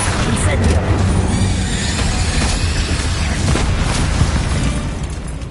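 Incendio fire spell cast in Hogwarts Legacy, a loud continuous fiery roar and blast that fills the whole clip with dense noise, with a voice speaking over it.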